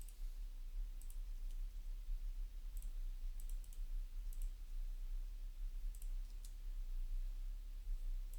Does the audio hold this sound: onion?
no